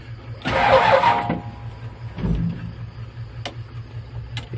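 A car engine cranked with the key during a Thai vehicle blessing ceremony: a loud burst of starter cranking, then a second shorter attempt, with a low steady hum underneath and a few sharp clicks.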